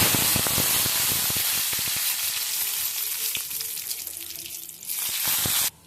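Mustard seeds spluttering in a little hot oil, a loud, busy sizzle with rapid popping crackles that gradually thins out before cutting off abruptly near the end.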